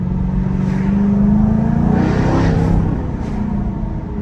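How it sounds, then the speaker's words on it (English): A 2024 Jaguar F-Type supercharged V8 idling close by, deep rumbling exhaust burble that swells briefly as it revs, then settles back to a low throb. "let's have a nice listen. And here's some of those burbles."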